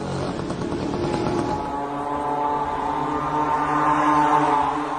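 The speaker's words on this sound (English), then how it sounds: "This is a small moped engine, or scooter engine sourced from China, at a cheap price." A small cheap Chinese moped or scooter engine of the kind powering the Shahed 136 drone runs steadily, a buzzing droning tone that shifts slightly in pitch and grows a little louder toward the end.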